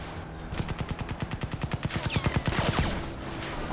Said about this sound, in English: Oh, you're trying to shoot me now, eh?